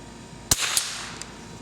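A single sharp crack from a Remington 510 Targetmaster rifle, with a faint echo trailing after it.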